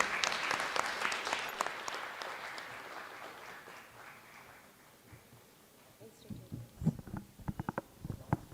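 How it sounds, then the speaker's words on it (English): An audience at a science communication conference applauds poster presentation winners: dense clapping that fades over several seconds, then a few louder, scattered claps near the microphone. "please give a big round of applause for all the winners of poster presentation"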